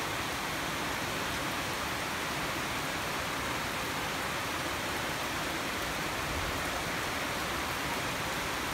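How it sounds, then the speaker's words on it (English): Steady heavy rain falls outdoors in Dumaguete, a close, unbroken wash of hiss that stays constant from start to finish with no talking. "It's so relaxing listening to the rain."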